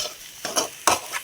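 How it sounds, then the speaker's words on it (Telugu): Cooked rice stirred and tossed in a hot pan for egg fried rice, three or four loud scraping sweeps of a spatula over a light sizzle, close and brisk, without any talk. "మనం రైస్ వేసుకున్నాక ఇలా బాగా కలుపుకోవాలి."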